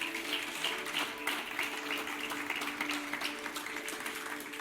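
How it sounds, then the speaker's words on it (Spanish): A church congregation applauds steadily under a faint sustained musical tone, the clapping even and moderately distant throughout. "Denle un aplauso al Señor."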